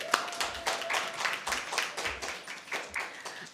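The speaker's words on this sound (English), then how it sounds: "Let's give the teams a round of applause." A public sector debate competition audience claps to welcome the teams, with sparse, uneven handclaps that come in loose rhythmic bursts, close and moderately loud.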